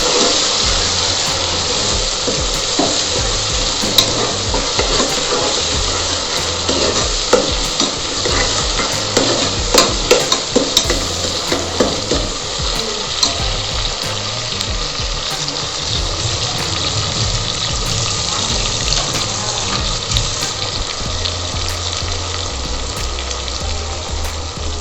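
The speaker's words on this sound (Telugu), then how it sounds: "టమాటాస్ని బాగా వేసేయాలి" Sliced tomatoes sizzling steadily in a hot pan while being stirred for a homemade vegetable pulao, with scraping and clinking of the spoon against the pan throughout and no talking.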